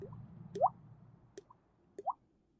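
Drip effects from the video game Tales of Berseria: two distinct watery plops about a second and a half apart, each a quick rising blip, with faint ticks between them over a low background hum.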